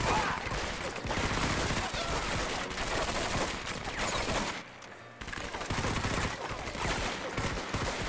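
Heavy gunfire in Medal of Honor: Vanguard during a fight to defend a house: a loud, continuous rattle of many rapid shots, with a brief lull midway.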